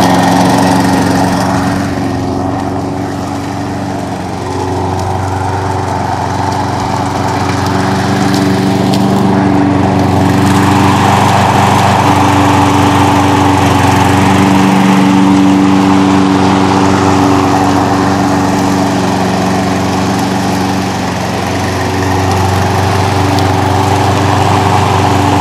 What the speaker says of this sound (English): And now you're going to start mowing.